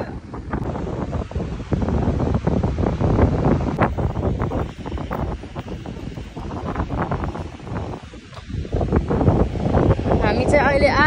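Wind buffets the microphone at the Lagoa de Santo André lagoon shore while sea waves wash in, loud and gusty throughout, with people talking nearby over the roar.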